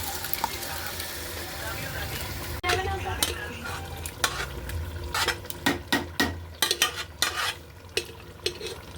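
Boiled mixed dal goes into a hot pan and is stirred, a loud sizzle followed by rapid clattering spoon scrapes and taps against the pan, with a voice briefly in the background.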